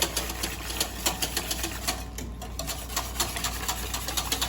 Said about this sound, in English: And I'm going to start to very vigorously whisk